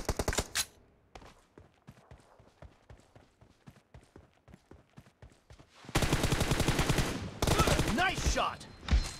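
Gunfire in PUBG arrives as a run of quick, rhythmic shots, fairly faint at first, then swells into dense, loud bursts of automatic fire near the end.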